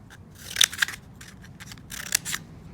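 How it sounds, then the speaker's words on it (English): Scissors snip slits into cardboard toilet paper rolls in a few quick, crisp cuts, close and fairly quiet, with pauses between bursts of snipping. "I'm going to cut up these rolls of toilet paper"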